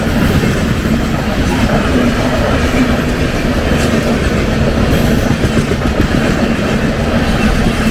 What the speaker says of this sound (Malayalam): പറഞ്ഞുകൊണ്ടിരുന്നപ്പോൾ തന്നെ ട്രെയിൻ എത്തി